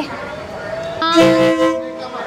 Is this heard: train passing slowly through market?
yes